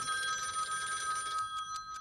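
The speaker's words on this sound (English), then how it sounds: "Is that the phone?" A telephone bell rings steadily for the whole stretch, a bright metallic trill that repeats in short bursts, fairly close and loud, with no one talking over it.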